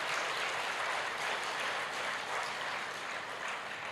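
An audience at a live talk in Ranchi claps in a steady, dense wash of applause that holds evenly for several seconds, fairly soft and with no voice on top.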